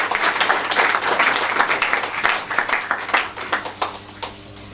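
Wedding guests at a civil marriage ceremony applaud in a sustained burst of dense clapping that gradually thins and fades toward the end.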